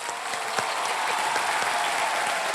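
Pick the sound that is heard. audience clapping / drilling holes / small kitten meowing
audience clapping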